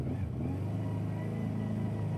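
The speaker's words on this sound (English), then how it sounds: "It's got a nice little whine to the engine." A 1976 Honda 400-4 four-cylinder motorcycle engine hums steadily while riding, a close, even mid-pitched drone with a faint whine and no break over the short stretch.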